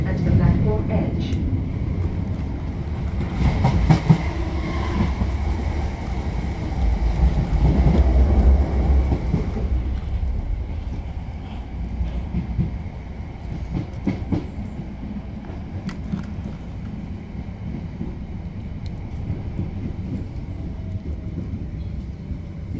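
A South Western Railway train, unit 5720, rumbling along the rails between Twickenham and Raynes Park, heard from inside a carriage: a low steady roar with occasional clicks and a surge in loudness before easing off.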